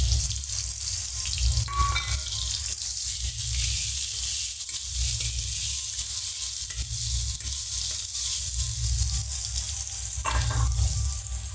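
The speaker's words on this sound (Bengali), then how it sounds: "এবারে রসুন এবং আদা বাটা দিয়ে দেবো।" Garlic and ginger paste frying with browned chopped onions in hot oil, a steady loud sizzle with occasional stirring scrapes, no talk.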